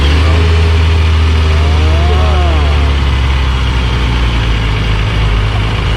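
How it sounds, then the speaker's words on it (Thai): A new 2021 Kawasaki ZX-25R motorcycle with its stock exhaust idles steadily with a low, even rumble throughout, close up and loud, with no talking. "นี่คือเสียงท่อเดิมนะครับน้องๆ"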